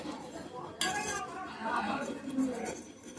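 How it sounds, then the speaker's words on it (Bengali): A spoon clinks against a bowl while stirring ragi flour into cold water, with a few sharp metallic taps and scraping swirls close up. A voice speaks briefly in the background. "এবার এটাকে আমি ঠান্ডা জলে ভালো করে গুলে নেব।"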